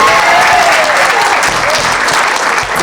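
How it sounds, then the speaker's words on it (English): A large crowd applauds at the Philadelphia International Art Expo in the Liacouras Center, a loud, steady wash of clapping that carries on throughout. "Give them a round of applause."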